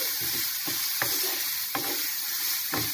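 Amla pieces frying in a seasoning of tempered spices in a pan, a steady close sizzle broken by occasional stirring scrapes, with no voices.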